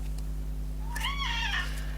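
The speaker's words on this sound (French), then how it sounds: "j'ai mademoiselle Duchesse qui vient miauler, comme à son habitude" A pet cat named Duchesse gives a single drawn-out meow, clear and fairly close, over a steady low electrical hum in a quiet room.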